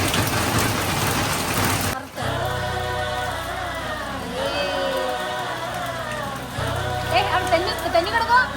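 Steady rain patters outdoors onto leaves and ground around a home, a continuous wet hiss that briefly drops out, with voices talking over it.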